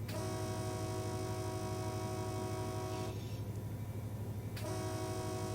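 A freight locomotive's horn sounds for a street crossing in the Run8 Train Simulator game: two long sustained blasts separated by a short gap, loud over a steady engine rumble.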